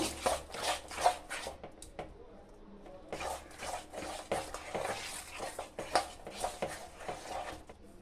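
A spoon works through banana pitha batter in a bowl just after baking soda and salt go in, giving a steady run of soft, wet stirring and scraping strokes with light clinks against the bowl, close and fairly quiet throughout.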